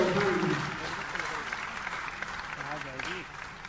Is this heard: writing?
no